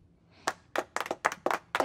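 A few people clap in a small group, giving sparse, uneven claps that start after a short quiet moment and speed up slightly, close and fairly light.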